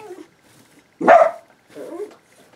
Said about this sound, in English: that's just our dogs. It's your neighbor dog.